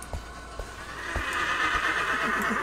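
A horse in the Roblox game Wild West whinnies loudly and at length, its drawn-out neigh rising over a few earlier thumping hoof or impact sounds, with no talking.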